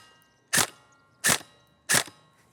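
Tokyo Marui HK416D Devgru airsoft rifle with hop-up chamber opened after maintenance, firing 0.20 g BBs on semi-automatic with blowback active: three sharp, loud, evenly spaced snapping shots about 0.7 seconds apart, with no talking.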